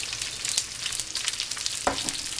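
Onions sizzling as they fry in a pan for crispy Gobi Manchurian, a loud continuous crackling hiss with small popping bursts, close up and without talk.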